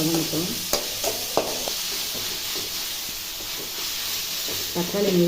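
Onions and tomatoes sauté in a pan with a steady hissing sizzle and a few scattered clicks of stirring, close up.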